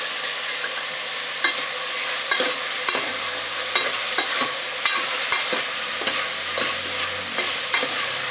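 Two brinjals and a potato fry in a pan, a continuous sizzle broken by regular scraping taps of a spatula stirring the pieces, close and clear with no talking.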